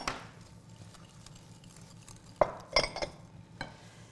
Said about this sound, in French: tu fouettes bien, vas-y, jusqu'à blanchir un petit peu le beurre et le sucre